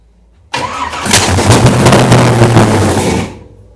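An MGB V8 fitted with a small block Chevy engine cranks and fires, a loud, close burst of engine noise that starts abruptly, runs steadily for under three seconds, then fades.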